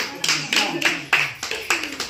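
Women at a haldi kunku gathering clap in a quick, even rhythm, about eight sharp claps close by with voices murmuring underneath.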